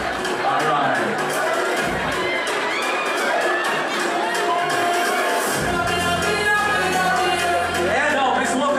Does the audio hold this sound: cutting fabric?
no